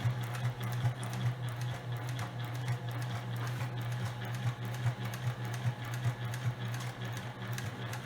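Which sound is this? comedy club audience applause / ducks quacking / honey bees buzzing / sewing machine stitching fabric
sewing machine stitching fabric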